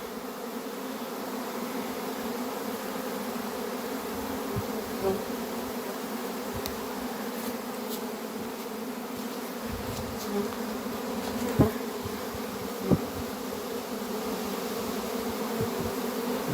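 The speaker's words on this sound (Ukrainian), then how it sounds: "Рій виходить гарно." A honeybee swarm pouring out of a hive, a steady dense buzz of many bees filling the air for the whole stretch, with a few louder bees passing close by.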